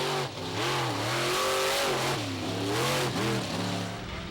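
A monster truck engine revs hard during a freestyle run at a Bloomsburg, PA show, its loud, close roar rising and falling in repeated throttle surges with a faint crowd murmur underneath.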